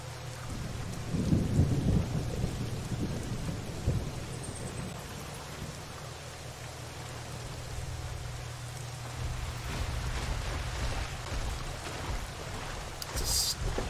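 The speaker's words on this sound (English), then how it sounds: "Stormy, rainy night on the Bio Isle." Thunder rumbles loud and close over steady rain on a stormy night in the dinosaur survival game The Isle, with a heavy roll early on and rain hissing throughout.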